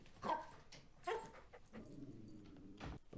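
A dog whimpers and yips in short, high, fretful bursts, close and fairly quiet, followed by a softer panting whine, in a scene from a horror TV series.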